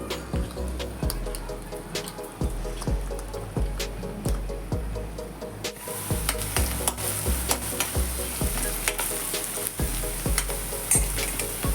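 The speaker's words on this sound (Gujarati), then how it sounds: "તેલ ગરમ થઈ રહ્યું છે તો સૌથી પહેલાં એમાં આપણે ડુંગળી એડ કરીશું" Onion sizzling in hot oil in a pan, with a steady fry that grows louder and brighter partway through. A spoon scrapes and stirs repeatedly at close range, and no one talks.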